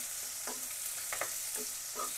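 Chopped onion and sliced green chili sizzle in a pan for a snakehead fish curry, with a few soft scraping stirs rising over the constant hiss of frying.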